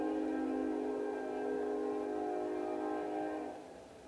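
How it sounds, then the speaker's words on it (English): A train passes by at night in an outdoor setting, its horn sounding as a long, steady tone that stays loud for several seconds and then fades sharply near the end. "There's a train that was driving by just now."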